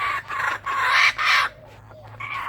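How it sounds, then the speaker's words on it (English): A laughing kookaburra calls in an Australian backyard beside a feeding platter, giving loud, close, raucous cackling bursts in a rapid series that then trails into quieter notes. "You're such a good kookaburra."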